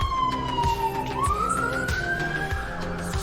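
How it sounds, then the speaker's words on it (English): A wailing siren rises and falls over a constant low engine-like rumble, sounding like an emergency vehicle passing somewhere outside, with no talking. "Sirens outside. I don't know if you heard that."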